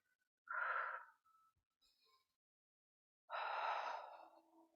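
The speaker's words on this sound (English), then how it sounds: "So exhaling as we twist" Two breathy exhalations, close and quiet, come from a person twisting the torso in a seated senior group exercise, each a soft sighing push of air with silence between.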